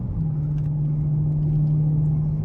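A Dodge Challenger Hellcat's supercharged engine runs with a steady low drone and a sustained tonal whine, close and loud with no talk.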